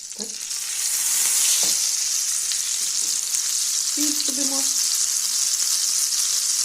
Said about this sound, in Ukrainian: Будемо зараз смажити спочатку цибулю, потім моркву